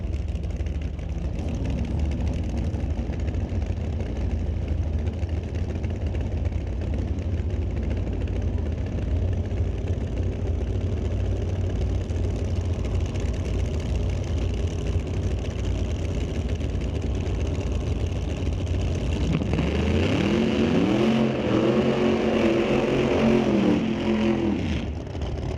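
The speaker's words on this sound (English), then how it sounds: "I hear engines." Drag racing cars at a raceway idle in a steady, rumbling background drone, with one engine revving up in short rising bursts toward the end, moderately loud and somewhat distant.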